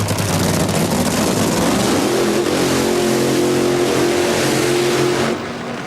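A Funny Car drag racing engine roars loud and steady at the track, its pitch climbing as it accelerates, then the sound drops off abruptly near the end.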